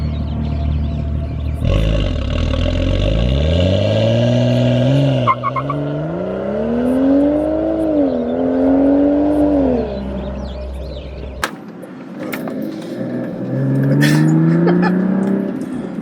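A tuned BMW 335i on a closed track roars through repeated hard accelerations, its engine note climbing and dropping through gear changes. The sound is loud and close, with a sudden cut near the end before it builds again.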